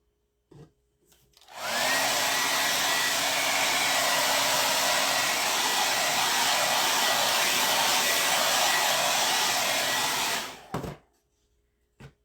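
A hair dryer blows steadily for about nine seconds, loud and continuous, drying chalk paste on a wooden craft plank, starting and stopping abruptly with no talk over it.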